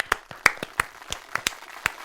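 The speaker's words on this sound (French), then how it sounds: "on peut t'applaudir déjà, on peut l'applaudir, bravo." Sparse clapping from a handful of people in a French TV studio after a winner is announced, a few sharp separate claps at an uneven pace, close and fairly quiet.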